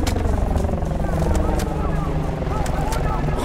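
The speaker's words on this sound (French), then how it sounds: "hélico ennemi!" A hostile helicopter in the Battlefield: Bad Company 2 game, its rotor and engine making a steady low thrum throughout, with in-game voices shouting over it.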